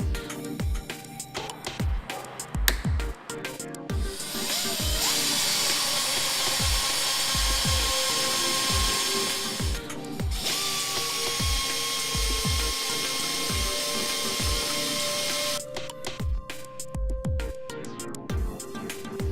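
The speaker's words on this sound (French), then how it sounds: "Coupez et poncez les embouts des agrafes pour la finition." A small rotary power tool cuts and sands the ends of plastic repair staples in a Plastoclip plastic repair job, producing a sustained high whine with steady pulsing grinding contact, near and loud, with breaks between passes.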